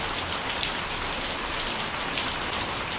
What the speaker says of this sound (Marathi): मला पाऊस पडला जोरदार पडतोय.